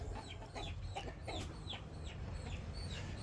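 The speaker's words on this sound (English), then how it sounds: "that gray chicken was trying to pick on the turkey, or Sue's trying to mount it" Chickens clucking in a backyard flock that includes a gray hen and a turkey, a steady run of short overlapping clucks and chirps close by over low outdoor rumble.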